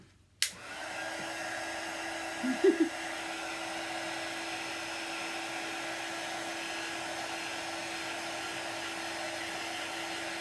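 A hair dryer blows over chalk paste on a handmade sign, switching on abruptly and then holding a steady, close, even whoosh, with a faint brief clatter early on.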